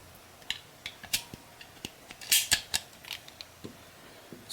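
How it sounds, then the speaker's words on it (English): A part is slid back into a Beretta 92FS pistol with a low-mass trigger set, compensator and KKM barrel, producing scattered metallic clicks, creaks and small snaps of varying loudness, close and without speech. "Go ahead and put that back in the gun real fast."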